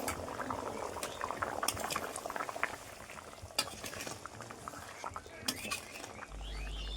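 Egg curry with potatoes bubbling in a pot, with a dense, busy gurgle of boiling liquid and occasional clinks of a utensil, close and moderately quiet, with no talking.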